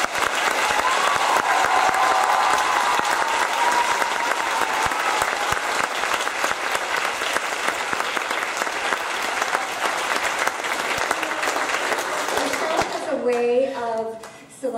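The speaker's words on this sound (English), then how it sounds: "we need to give her a very heartfelt round of applause" A school spring concert audience gives loud, sustained applause, dense clapping that fills the room without a break before fading out as a voice begins speaking at the very end.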